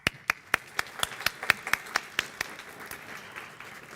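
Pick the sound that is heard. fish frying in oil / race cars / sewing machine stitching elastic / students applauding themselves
students applauding themselves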